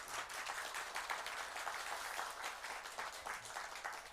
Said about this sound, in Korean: 인사하실 때 큰 박수 좀 한번 해주시기 바랍니다.